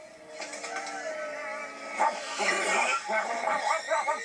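A cartoon dog yips and barks in short bursts, close and fairly loud, amid lively background music and sound effects, with voices in an animated chase scene.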